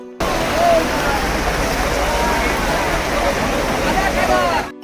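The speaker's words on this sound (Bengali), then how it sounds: "আপনারা বৃষ্টির আওয়াজ শুনতে থাকুন" Heavy rain pours down on a crowded open-air market (haat) in Beldanga, a steady broadband roar filling the whole stretch, with a faint murmur of people beneath it.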